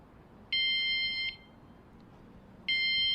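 The alarm on a Paselec PX5 folding e-bike emits two sharp, steady electronic beeps, the first lasting nearly a second and the second starting near the end, close and clear over faint background noise.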